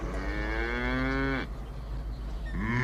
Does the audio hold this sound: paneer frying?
no